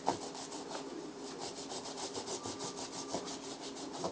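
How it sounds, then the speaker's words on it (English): A brush is pushed firmly back and forth while scrubbing a shoe during cleaning, making a quick, even train of rasping strokes that is soft and close, with no voices. "This you do want to push down on, unlike the magic eraser, because you actually are scrubbing the shoe."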